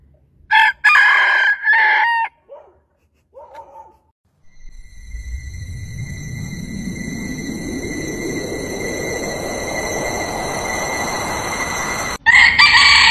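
A chicken clucks and crows loudly at the start in a few short bursts. After that a rising whooshing roar with steady high tones takes over for several seconds, and a final loud burst comes at the end.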